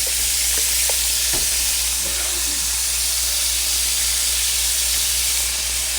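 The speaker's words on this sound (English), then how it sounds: "Give them a stir. And they're already starting to open up." Mussels cooking in a pot with garlic powder seasoning, stirred once or twice: a steady, loud sizzle and steam hiss runs throughout, with a few brief scraping knocks near the start.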